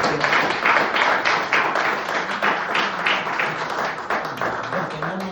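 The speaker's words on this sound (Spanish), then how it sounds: "Démosle palmas al Señor" A church congregation claps for the Lord in a worship service, its hands striking together in a strong, steady rhythmic beat that carries on throughout, loud and close.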